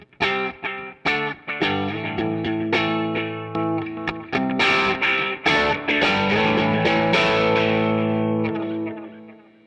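An electric guitar plays a rhythm part through a mid-range boost pushed into overdrive. Strummed chords ring out in a loose rhythm, some hits choked short and others left to sustain, with a gritty, distorted edge and no talking.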